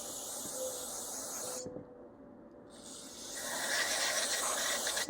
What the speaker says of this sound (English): Then I'm going to spray the inside of it